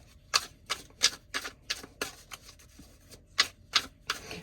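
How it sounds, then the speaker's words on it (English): Tarot cards being shuffled make a run of crisp, close clicking riffles in an uneven rhythm, about a dozen sharp taps with short gaps and no talking. "One more shuffle."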